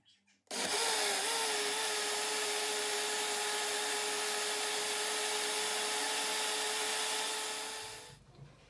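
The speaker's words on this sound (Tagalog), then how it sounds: "Nilagay ko na lahat ng lugaw sa blender." A kitchen blender whirs through a rice porridge mixture, switching on abruptly into a loud, steady high-pitched motor whine with a faint shifting tone, then cutting off and spinning down near the end.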